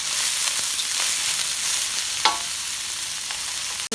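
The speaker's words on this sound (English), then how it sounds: "You just wanna stir fry these until where you think your family is gonna like the crispiness of this" Spring onions and carrots are stir-fried with ginger and garlic for chicken hakka noodles, a constant loud sizzle broken by occasional scraping clicks from the stirring.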